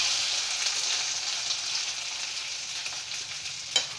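Ginger garlic paste and a bay leaf fry in hot oil over a lowered flame, giving a steady, even sizzle throughout with one brief sharper spatter near the end.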